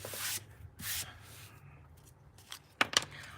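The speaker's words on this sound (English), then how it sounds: "And then grabbing my scissors here." Scissors handled and snipping near the microphone during a card-making session, a few short hissy cuts early on followed by two sharp metallic clicks near the end, with no talking.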